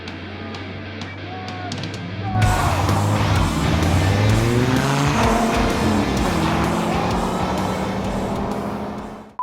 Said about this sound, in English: Case and I actually did a drag race against our new to us C4ZR1.